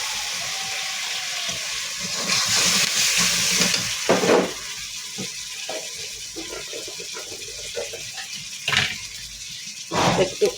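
Shrimp fry with chili and cumin powder in a pan over a wood-fired stove, giving a steady close sizzle broken by several sharp scraping stirs.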